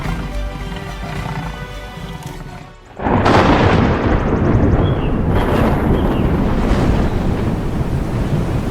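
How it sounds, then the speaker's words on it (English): Loud, continuous roaring rush of wind thrashing through rainforest canopy with heavy rain, a dense broadband wash that surges in abruptly after a quieter stretch and keeps going. "the wind thrashes through the canopy"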